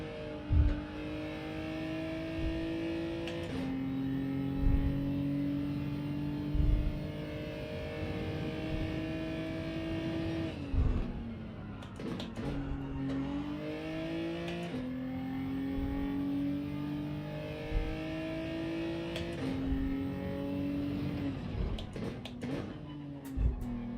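Genesis G70 race car engine in Gran Turismo, revving up through gears in repeated rising pulls with sharp shift drops, loud and steady with no talk.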